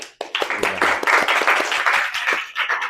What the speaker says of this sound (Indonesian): Untuk setiap kelompok kita apresiasi dengan tepuk tangan yang meriah